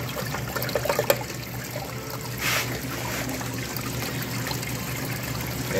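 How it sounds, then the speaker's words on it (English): Water sloshes and trickles steadily in a gold prospecting pan as black sand is washed out, a continuous close splashing with a brief louder swirl midway. "It'll wash that black sand right out of there"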